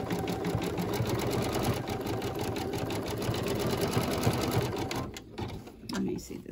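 An embroidery machine stitches a mug rug in the hoop with a rapid, rhythmic mechanical chatter that runs steadily before stopping near the end, while a person talks over it.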